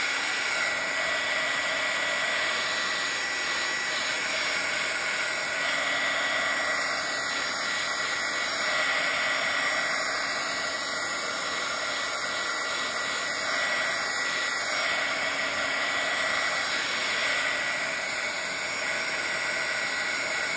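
A hair dryer blows with a steady, continuous whooshing hiss while drying a decoupage journal page, running alone at moderate volume without talk.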